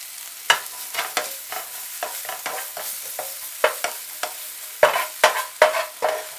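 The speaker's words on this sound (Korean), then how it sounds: "시금치는 한번 데쳤기 때문에 프라이팬에서 오래 볶지 않습니다" Blanched spinach being stir-fried in a frying pan, with a spatula tossing and scraping in quick irregular strokes over a soft sizzle, close and without talking.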